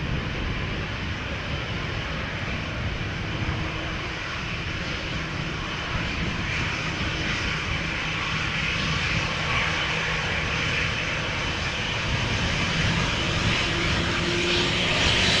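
Airliner PH-BXM, about 23 years old, departs Amsterdam Schiphol on a windy day with a sustained, loud jet engine roar that builds slightly toward the end, heard alone without talk.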